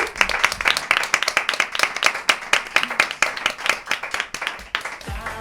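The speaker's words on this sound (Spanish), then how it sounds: "Pues un aplauso para Elvira Lindo" A studio audience claps and applauds for a guest on a radio talk show, a dense burst of hand claps that swells and fades slightly over several seconds, close and steady.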